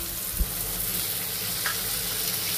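Chopped tomato sizzling with onions in a pan for egg do pyaza, a steady low frying hiss throughout with one brief knock of a utensil early on.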